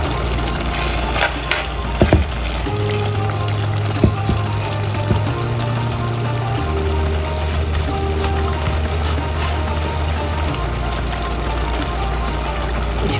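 Spicy amaranth stems with shrimp sizzle steadily in a pan, a close, continuous frying hiss broken by a few sharp clinks and stirring knocks, with a low hum running beneath.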